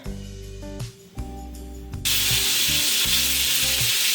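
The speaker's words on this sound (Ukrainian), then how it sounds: "Почала смажити м'яско." Meat sizzles in a hot pan, a steady loud hiss that swells abruptly partway through, with low clattering and tonal kitchen noise early on.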